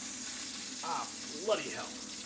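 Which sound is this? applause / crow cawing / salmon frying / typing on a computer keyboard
salmon frying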